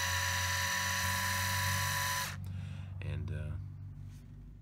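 A Black & Decker li2000 cordless screwdriver with freshly greased plastic gears runs with a steady, close electric whine for about two seconds, then stops, leaving quieter handling noises.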